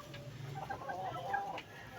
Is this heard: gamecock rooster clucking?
yes